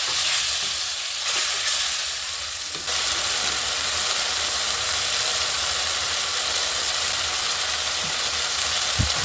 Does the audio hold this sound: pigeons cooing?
no